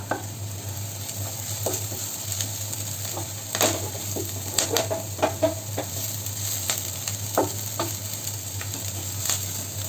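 Oil sizzles steadily in a hot pan as onion and chili fry, with occasional clicks and scrapes from stirring.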